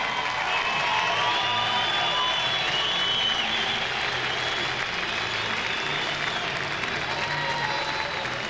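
Sustained applause and clapping from a large crowd at an event honouring Stanley Cup hockey greats, steady and dense throughout with a faint murmur of cheering mixed in.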